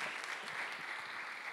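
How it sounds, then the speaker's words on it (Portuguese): A crowd applauds steadily at a live hypnosis stage show, dense and continuous clapping that fills the whole moment at a fairly loud level. "agora uma salva de palmas para os nossos astros aqui"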